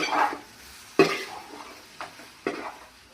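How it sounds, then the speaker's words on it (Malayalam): A spoon stirs chicken pieces into curry masala in a pan, making four separate scraping strokes about a second apart with faint sizzling between them and no voices. "ഇതിലേക്ക് നമുക്ക് ചിക്കൻ ആഡ് ചെയ്ത് കൊടുക്കാം ഇനി ഇത് നന്നായി ഇളക്കി"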